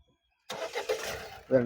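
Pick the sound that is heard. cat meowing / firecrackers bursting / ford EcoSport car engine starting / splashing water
ford EcoSport car engine starting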